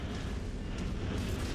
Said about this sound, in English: Good explosion there.